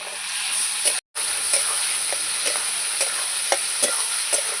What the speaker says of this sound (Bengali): লবণ দিয়ে দেবো ভালো করে নাড়াচাড়া করব